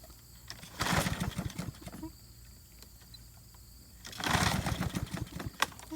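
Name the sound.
Snapper self-propelled lawnmower engine running and popping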